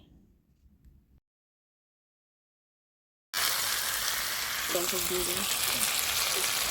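Paneer goes into a pan with bitter gourd, pointed gourd and poppy-seed paste. After a stretch of silence, a loud, close, continuous frying sizzle starts abruptly and keeps going steadily.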